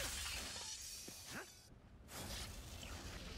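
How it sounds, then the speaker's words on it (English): Shatter bomb weapon exploding in Ratchet & Clank: Rift Apart, a quiet burst of glassy shattering and swishing debris, followed by a brief hush and then more crackling fragments. "The shatter bomb."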